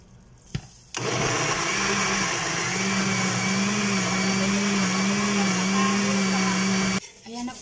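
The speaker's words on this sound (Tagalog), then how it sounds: "Atong blender." A kitchen blender mixing Nestle cream for a souffle whirs steadily at high speed for several seconds, starting abruptly after a brief click and cutting off just as suddenly.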